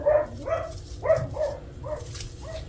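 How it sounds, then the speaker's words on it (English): Household dogs barking in the background of an indoor home crafting session, a series of short muffled barks and yips in an uneven rhythm, faint and somewhat distant. "Sorry if you hear my dogs barking."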